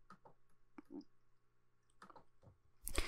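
Computer mouse clicks, a few faint, sparse ticks spread through a quiet room, ending in a louder handling rustle.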